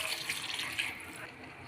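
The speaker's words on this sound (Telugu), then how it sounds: "ఒక గ్లాసు బియ్యంకి గ్లాస్న్నర వాటర్ పోసుకోవాలి." Water poured from a glass onto rice in a pot for aloo pulao, a steady splashing gush that runs for about a second and then tapers off to quiet.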